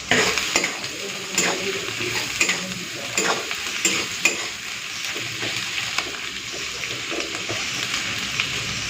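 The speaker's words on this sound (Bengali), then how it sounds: "পেঁয়াজটাকে একটু হালকা লাল করে ভেজে নিই" Chopped onions fry in hot oil with whole garam masala and bay leaf for chicken kosha. A loud, continuous sizzle runs throughout, with frequent clinks and scrapes from stirring in the pan.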